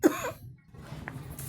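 A single short cough near the start, close and fairly loud, followed by quiet room noise and a faint murmur while someone prepares a watermelon shake.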